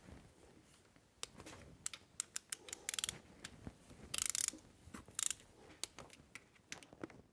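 A wrench clicks in short irregular bursts while the ten bolts on a remote oil cooler for a 6.0 diesel engine are torqued down, the ratcheting sharp but fairly quiet, with no talking.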